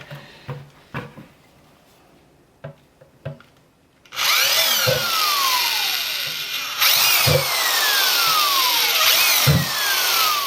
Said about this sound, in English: we're going to put lots of little holes all the way around, just lots of little holes